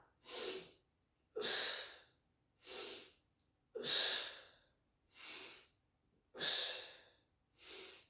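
Deep breaths in a guided exercise, seven broad noisy bursts at a slow, steady rhythm, with inhales and exhales alternating, close and fairly quiet, with no talking between them.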